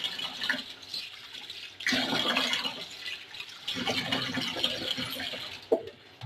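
Pearl millet (bajra) grains stirred and washed by hand in water, with splashing, sloshing bursts that come and go in waves, close by and moderately loud, in village-style home cooking.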